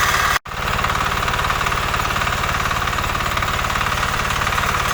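A walk-behind tractor engine runs steadily in low gear while hedgehog weeders work a potato field, a loud, close, continuous mechanical drone with a brief dropout near the start.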